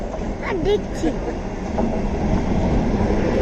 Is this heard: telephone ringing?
no